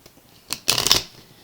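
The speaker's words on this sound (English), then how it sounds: "I've got 3 shuffles left, and I like to do it on camera" A deck of tarot cards is riffled in a quick, crisp burst: a brief flick and then a dense flutter of cards, close and isolated.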